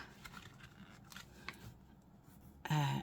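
Scissors snip through paper for a folio junk journal made from book pages, junk mail and packaging: a single loud, close cut near the end after quiet rustling.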